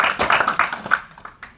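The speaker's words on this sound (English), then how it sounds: "So give Denny a round of applause." A short round of clapping from a small audience at a real estate team meeting, brisk and scattered at first and then quickly thinning out to a few last claps.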